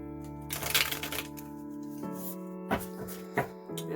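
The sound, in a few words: ruffle shuffling a tarot card deck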